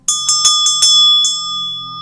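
A bell struck about six times in a quick, slightly uneven series, each clear ringing stroke leaving a sustained tone that carries on after the last hit, with a low hum underneath, during a guided prayer and breathing session.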